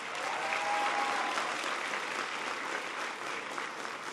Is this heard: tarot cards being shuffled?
no